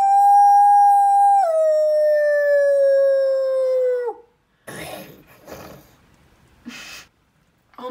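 A person imitates a wolf howl: one long, loud, sustained howl that drops slightly in pitch, followed by a few shorter breathy sounds and a brief yelp.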